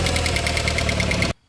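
A 1992 Plymouth Laser engine runs on all four cylinders, a steady close idle with a rapid rhythmic ticking pulse over a constant drone, cutting off abruptly near the end.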